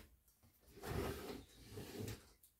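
A kitchen utensil drawer slides open and shut, giving two soft, close rubbing wooden rolls that swell and fade with a brief quiet gap between them, and no voices.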